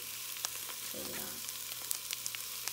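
Ground turkey hits a pan of salted, softening vegetables and carrots and breaks into a steady sizzle, with a louder burst of frying near the start and faint stirring clicks throughout.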